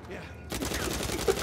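Gunfire from the video game Drake Fortune Treasure Island bursts in suddenly after a quiet moment, a rapid, dense fusillade of shots rattling on loudly and close.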